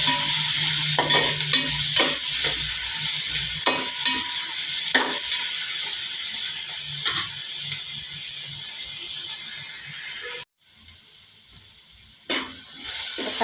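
Chopped tomatoes fry in a pan for a fish roast, with a steady close sizzle and repeated scraping stirs of a spoon, briefly cut off before the sizzle resumes.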